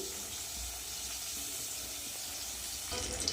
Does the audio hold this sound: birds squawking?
no